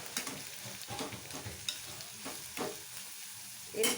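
About 250 grams of minced mutton fries with onions and ginger in a pan, with a close sizzle broken by several quick scraping strokes of stirring, each a short burst, and no talking.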